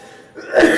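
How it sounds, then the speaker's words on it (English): A single short cough bursts out after a brief quiet lead-in, close and fairly loud, with no other voice around it. "The cough."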